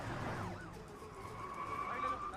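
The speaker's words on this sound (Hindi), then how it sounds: "पुलिस की गाड़ी आ रही है, जल्दी।" A police car siren in a film scene, its wailing tone sweeping and then settling into a steady pitch as it draws near, fairly loud against a dense background of street and crowd noise.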